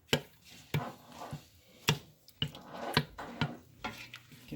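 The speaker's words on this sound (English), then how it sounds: "So you can just use your wooden spoon, break it up a little, and then keep stirring." A wooden spoon stirs and breaks up carbonara sauce in a pan, sharp knocks and scrapes spaced irregularly over a quiet, faint simmer.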